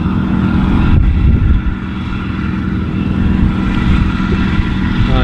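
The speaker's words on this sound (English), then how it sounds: "I'll go and let you see the tractor that I'm driving today" Tractor engine running steadily while driven during a harvest, a loud, close, continuous low rumble with wind buffeting and no clear changes in pace.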